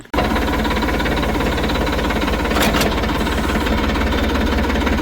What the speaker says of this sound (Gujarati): આપણું ટ્રેક્ટર છે એને છોડાવી લઈએ અત્યારે